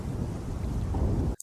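A deep, rumbling roll of thunder from a lightning storm fills the air with low, continuous energy before cutting off abruptly.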